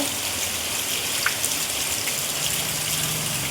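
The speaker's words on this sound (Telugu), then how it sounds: "బయట పెద్ద వర్షం పడుతుందండి" Heavy rain pours outside during flooding, a steady broad hiss with flowing, gushing water underneath, fairly close and continuous, with a faint low hum entering near the end.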